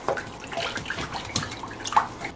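Water runs steadily while a cleaning brush is rinsed indoors during a room cleanup, a continuous splashing wash with a few brighter drips and spatters, fairly close and moderately loud, with no talking.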